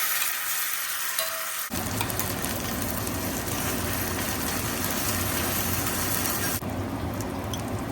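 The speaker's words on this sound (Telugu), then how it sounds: "ఇప్పుడు మనం మిక్సీకి వేసుకున్న ఈ పచ్చికారాన్ని కాసేపు ఫ్రై చేసుకున్నామండి ఆయిల్లో వేసి." Ground green chili paste fries in hot oil, jumping from a quiet start into a loud, dense, continuous sizzle that keeps up steadily to the end, with no voices.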